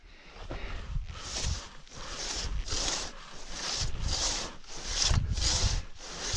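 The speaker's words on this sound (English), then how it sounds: "Let's see if we can cut a little bit more" Steady back-and-forth hand-saw strokes rasp through a wet, sappy, dense log, about eight even, close, loud strokes with no talking.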